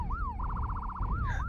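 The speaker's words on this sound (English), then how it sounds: "That is the sound of the police." A wailing police siren in a video game sweeps up and down, then warbles rapidly, fairly faint and brief with no talk over it.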